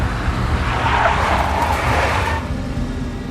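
A big black Mercedes in the Max Payne video game roars past with engine rumble and a drawn-out tire skid, loud and close before easing off near the end.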